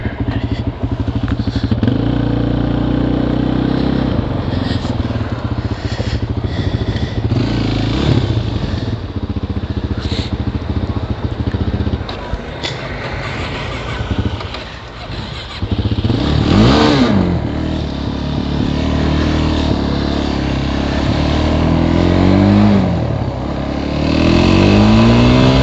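An ATV engine runs and revs in a cold outdoor setting, a loud, close mechanical drone with rising and falling rev sweeps and occasional clatter, continuing steadily for about twenty-five seconds.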